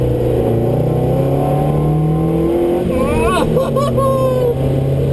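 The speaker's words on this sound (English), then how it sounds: "Listen to that engine!" A loud Datsun 510 estate engine drones steadily and rises in pitch as it revs, with a voice speaking over it near the end.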